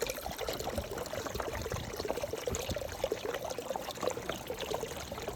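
Water pouring and trickling into a homemade 5 gallon toilet, a faint, steady stream with splashy texture running close by without pause and without talk.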